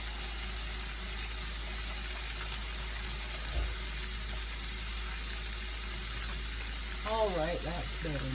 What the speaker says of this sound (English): I'm going to wash my hands.